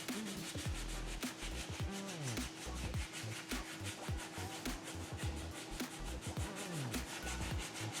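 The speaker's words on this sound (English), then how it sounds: "this spindle sander is new to my practice, and it is excellent to start my sanding process" A spindle sander runs steadily against wood in a small studio, giving a continuous rubbing, rasping drone with rhythmic scraping strokes across the whole stretch, close and fairly loud with no talk.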